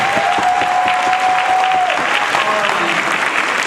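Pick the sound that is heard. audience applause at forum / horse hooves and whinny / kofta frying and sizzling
audience applause at forum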